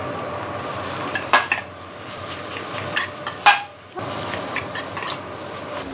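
Egg and cooked rice are stir-fried in a pan for nham fried rice, heard as a close sizzle under repeated sharp metal scrapes and clanks of a spatula in an uneven rhythm, with no talking.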